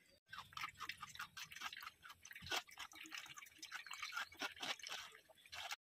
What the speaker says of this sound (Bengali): এবার আমি ছাঁকনিতে একটা ছেঁকে নেব।